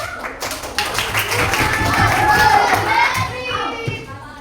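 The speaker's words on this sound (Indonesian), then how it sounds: "Tepuk tangan untuk kelompok 2" Applause for a student group at an Islamic education teacher-training presentation in Ponorogo, a steady, moderate patter of hand claps from a small audience, with faint voices murmuring beneath.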